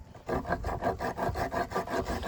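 Rhythmic scratchy rasping strokes, about nine back-and-forth passes of a sanding pad against hardened resin, close and fairly quiet.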